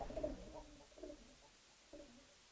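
Pigeons coo softly in a small home loft, several low, muffled calls spaced out and faint against quiet room noise.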